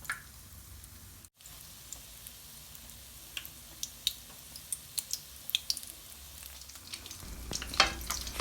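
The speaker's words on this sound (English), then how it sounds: "Fry the egg until the egg gets golden color and turn them over." Egg for a Thai omelette fries in very hot oil in a pan, a steady close sizzle with a sequence of sharp pops and spits that grow busier and louder toward the end.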